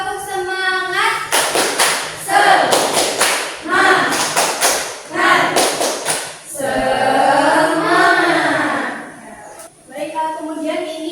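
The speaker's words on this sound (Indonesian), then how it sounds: "kita tepuk semangat terlebih dahulu ya" Classroom children perform the tepuk semangat clapping chant, sharp group claps in rhythmic bursts alternating with loud sung and shouted chant lines.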